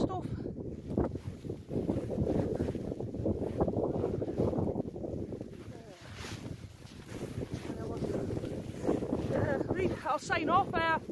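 Strong wind on a hilltop in Northumberland buffets the microphone in heavy, continuous gusts that roar and rumble throughout, with a brief lull midway before surging again.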